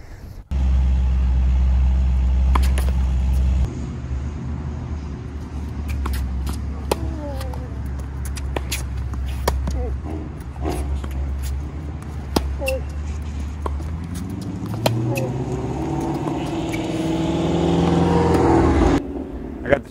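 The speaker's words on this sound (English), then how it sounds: "I got distracted by that car noise." A car engine rumbles low and steady, then rises in pitch and grows louder near the end as a vehicle passes close by, with some voices in between.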